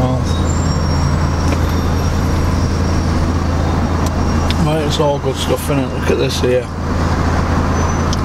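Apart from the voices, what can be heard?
slow traffic in Sheffield town centre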